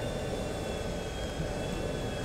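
An airplane engine in the video game GTA V drones as a loud, steady, continuous roar with a constant tonal hum and no variation or speech.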